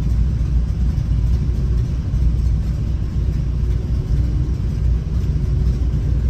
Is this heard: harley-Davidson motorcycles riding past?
yes